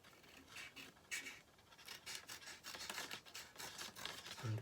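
Scissors snip and rasp through paper while cutting out craft daffodil shapes, a quiet, steady run of scratchy cuts with no voices.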